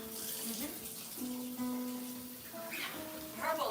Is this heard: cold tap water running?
yes